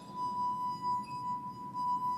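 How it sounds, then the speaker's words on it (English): A wine glass sings as a finger is rubbed lightly around its rim, producing a sustained pure ringing tone that holds steady over a soft, fluctuating rubbing noise. "Then you rub your finger around the rim of the glass, not too hard."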